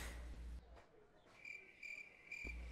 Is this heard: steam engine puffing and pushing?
no